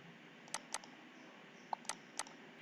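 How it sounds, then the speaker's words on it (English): Five sharp, separate keystrokes tap on a computer keyboard in a quiet room, irregularly spaced, close and crisp against faint background hiss. "simply type tr double enter in the keyboard"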